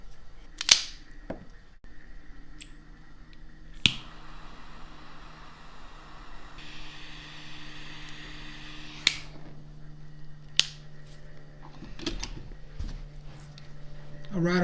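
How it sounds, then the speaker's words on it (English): A cigar (My Father Flor de las Antillas) is cut and lit, with sharp, close clicks from the cutter and lighter spaced across a quiet room hum and a soft steady hiss of the flame in the middle. "I'm going to go ahead and give this thing a cut and a light"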